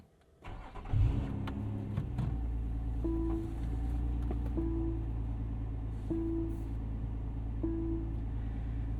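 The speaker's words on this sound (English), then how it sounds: "you lift this little cover over your stop-start button to fire it up" A 2025 Lotus Emira V6 started with its stop-start button: a quick crank catches into a loud flare of revs, then settles into a steady, rumbling idle with brief electronic chimes.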